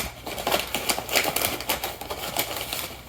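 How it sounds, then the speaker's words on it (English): An onion soup mix packet being torn open, a busy run of crinkly, crackling paper-and-foil rustles in quick irregular bursts, close and moderately loud, with no talking. "I'm going to open up my onion mix packet, and I'm going to dump it into one of these aluminum pans again."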